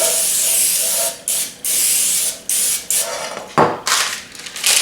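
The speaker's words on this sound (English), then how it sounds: "and then I literally spray this again" A cooking spray can sprays in a series of short hissing bursts with brief pauses between, close and loud, plus a faint clack near the end.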